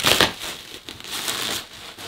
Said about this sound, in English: Get my trusty little Stanley box cutter and cut through this